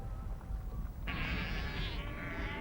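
Sheep bleating on a Falkland Islands sheep farm with a large shearing shed, one loud sustained bleat starting partway through over a steady low rumble of background noise.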